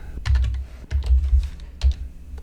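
Keys clatter on a computer keyboard as a cell reference goes into a spreadsheet name box, giving a quick close burst of several taps, a pause, then a few more.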